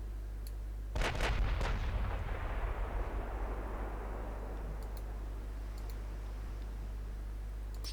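Naval gunfire in the warship game Ultimate Admiral Dreadnoughts: a single deep cannon blast booms out, followed by a long rumbling roll that fades over several seconds above a steady low background hum.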